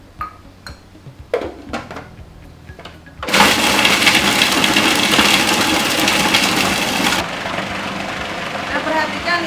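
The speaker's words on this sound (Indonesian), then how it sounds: "di blender bersama es batu" Food processor blending lean, fat-free beef inner thigh with ice cubes for meatballs: a loud, steady whirring grind lasting about four seconds, preceded by a few light kitchen clinks and clatter.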